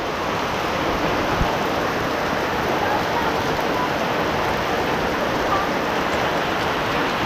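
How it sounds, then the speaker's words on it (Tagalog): Heavy rain pours down steadily outdoors, heard while sheltering under a tree, a dense, constant hiss of drops hitting surfaces without letup. "Inaabot kami ng malakas na ulan"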